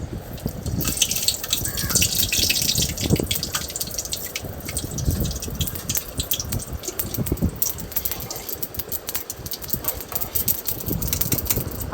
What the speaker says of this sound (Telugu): 4 టీ స్పూన్లు ఆయిల్ పోసుకొని దాంట్లో ఆవాలు కొద్దిగా మెంతులు కొద్దిగా వేసుకొని బాగా వేయించుకొని